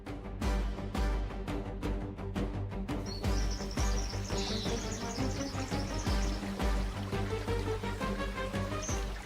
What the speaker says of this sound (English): Heavy breathing mixes with the sound of splashing hooves, creating the soundscape of this massive assembly.